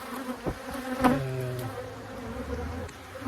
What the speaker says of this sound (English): before these bees get too super crazy, they're on the camera and stuff